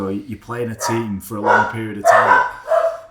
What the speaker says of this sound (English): Excuse my dog. My dogs are just kicking off at the pop.